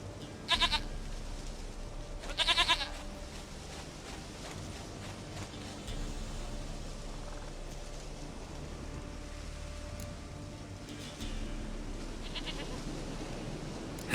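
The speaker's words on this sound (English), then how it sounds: "Goat of mine, dearest, sweetest goat." In a video game, a goat bleats in two short, bright bursts near the start, then falls quiet over a steady, low ambient bed that may hold rain.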